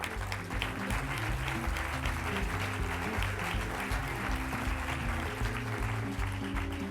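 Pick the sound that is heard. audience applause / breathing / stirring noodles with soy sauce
audience applause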